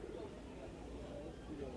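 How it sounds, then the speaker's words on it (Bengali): Pigeons softly cooing at a busy pigeon market, a faint low murmur of coos that is partly masked by crowd chatter and steady background noise throughout. "অনেক সুন্দর সুন্দর কবুতর নিয়ে আসছে"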